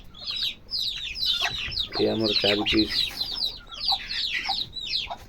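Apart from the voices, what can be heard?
desi (country) chicken chicks clucking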